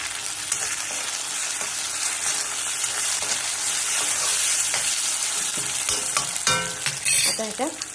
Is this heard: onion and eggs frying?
yes